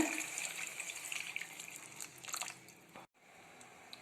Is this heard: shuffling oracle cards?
no